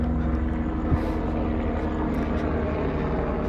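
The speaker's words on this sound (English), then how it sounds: "There's a helicopter flying overhead." A helicopter passing overhead: a steady, loud rotor and engine drone with a low pulsing throb fills the whole stretch without fading, and no voices are heard.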